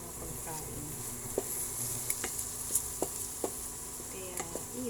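Squash with filling frying in a pan, a soft continuous sizzle broken by sharp clicks and taps of stirring, with faint background chatter.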